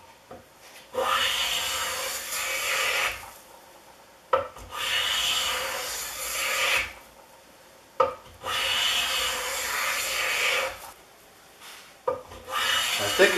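Repeated long strokes of a Stanley No. 18 block plane shaving a narrow piece of walnut, each pass a raspy, rising hiss lasting a couple of seconds, with short quiet gaps between four passes, close and clear.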